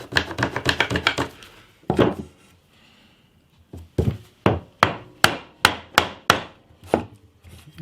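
Hand-sawing a piece of wood for a guitar-building jig: a quick flurry of short strokes, a pause, then a steady series of sharp rhythmic cuts, close and loud.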